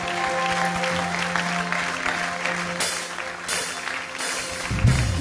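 A church congregation claps in sustained applause, broken into several bursts with brief pauses, while a low tone lingers beneath in the opening seconds.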